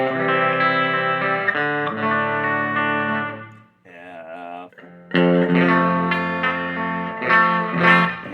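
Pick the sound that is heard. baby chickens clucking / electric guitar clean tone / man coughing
electric guitar clean tone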